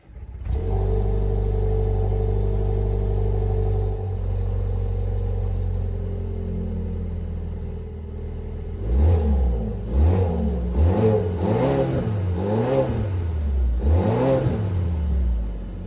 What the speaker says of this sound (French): quand vous accélérez, bon là, il y avait le rev limiter, hein, 4000 tours